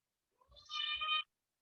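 A cat gives a single drawn-out meow, close and clear, rising then holding for about a second in an otherwise quiet room.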